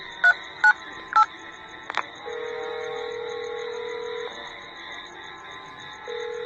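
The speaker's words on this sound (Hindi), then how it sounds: "अपने मोबाइल से किसी को फोन करने लग जाता है" Mobile phone keypad tones: three short beeps close together followed by a fourth, then a steady ringback tone that stops and starts again, clear and alone with no talk.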